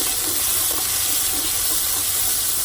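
Shallot, garlic and onion frying in a pan for vegetarian Mì Quảng, a steady hiss of sizzling oil filling the background with faint scraping from stirring, no voices.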